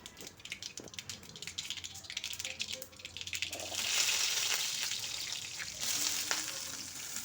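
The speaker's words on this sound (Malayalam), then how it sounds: "കടുക് ചേർത്ത് കൊടുക്കാം കടുക് പൊട്ടി വരുമ്പോഴത്തേക്കും കറിവേപ്പില ആഡ് ചെയ്യാം" Mustard seeds pop and crackle in hot oil for a pumpkin stir fry, scattered sharp pops at first, then the sizzle swells louder and steadier.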